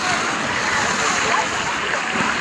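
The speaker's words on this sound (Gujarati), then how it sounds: "હા પાણી ઉડાડે ભાઈ." Steady, loud rush and splash of water at an outdoor water park, a dense continuous wash of spray with wind-like hiss and no clear breaks, close to the microphone.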